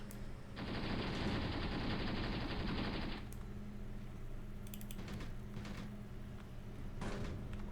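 Gunfire in a Cold War battle video game set in Africa: a loud, sustained automatic burst lasting a few seconds, followed by quieter scattered shots and faint mechanical clatter.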